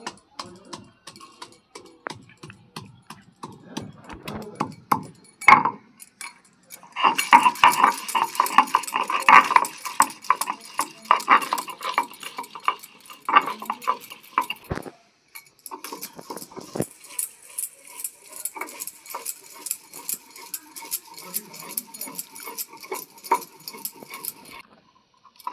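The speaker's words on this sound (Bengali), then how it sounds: "রসুন আর আদাটা বেটে নিচ্ছি।" Garlic and ginger are ground into a paste by hand, giving irregular scraping and knocking strokes in bursts with short pauses, loud and close.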